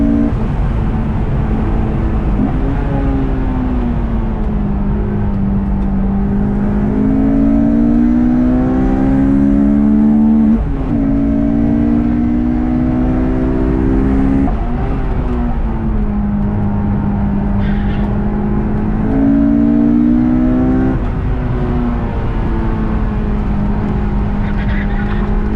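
A Honda S2000 runs at full speed on a race track, its engine droning steadily with repeated rising pitch sweeps through the gears, heard from inside the car with no talking.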